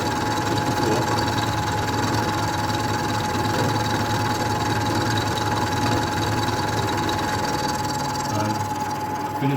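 A milling machine cuts enclosed 10 mm wide slots in a V block under a slow hand feed, giving a loud, steady mechanical drone with a constant hum and rattle that runs through the whole stretch.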